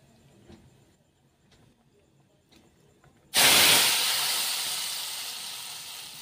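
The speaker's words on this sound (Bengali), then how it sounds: "গরম তেল, ফুটন্ত গরম তেল এবং কালো জিরে এখন এবারে ওই সেদ্ধ করা ডালের সঙ্গে দেবো।" Quiet clinks of utensils, then smoking-hot oil with fried nigella seeds poured into boiled mung and masoor lentils with poppy seeds, erupting into a sudden loud hiss that slowly fades while staying strong.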